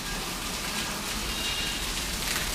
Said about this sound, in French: Et oui, il pleut